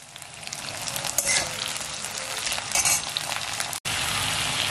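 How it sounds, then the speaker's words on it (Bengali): Potatoes, dried red chillies, panch phoron five-spice and bay leaf spitting and crackling in hot oil, a steady close sizzle with brief louder bursts, one sharp dropout near the end, no voices. "গরম তেলে দিয়ে দিয়েছি শুকনো লঙ্কা, পাঁচফোড়ন আর তেজপাতা আর আলুগুলো।"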